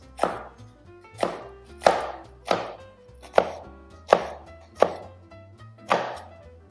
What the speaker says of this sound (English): Take our cleaver and just do a very thin slice.